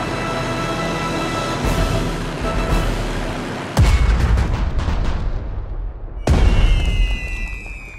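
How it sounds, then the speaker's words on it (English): Heavy explosions from a bombing run in the World War II strategy game Strategic Mind, Tunisian campaign: rumbling blasts with two sharp, loud impacts partway through, each followed by a decaying boom. "On a bombing run."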